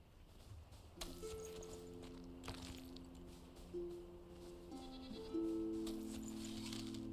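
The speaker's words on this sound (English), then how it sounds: "Fucking stupid goat fell all the way down." Several goat bleats from the video game Enshrouded, drawn-out and wavering, overlapping one another over a faint ambient bed, rising louder toward the end.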